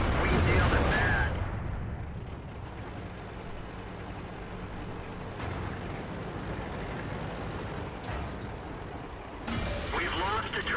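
Tank cannon fire in World of Tanks, an IS-6 Tier 8 premium heavy tank in battle: a loud blast at the start, then a rumbling engine bed, with another burst near the end and a voice speaking.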